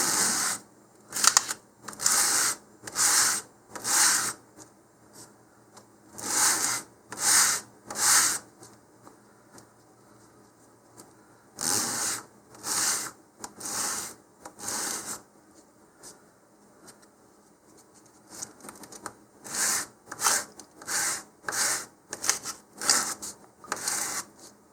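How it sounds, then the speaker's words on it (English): Stacked model rocket fins are rubbed back and forth across 100 grit sandpaper to clean sooty edges, making bursts of rhythmic rasping strokes in three separate runs with quiet pauses between, close up and with no talk. "I'm going to run each set of collective edges across some 100 grit sandpaper here, just to remove that soot."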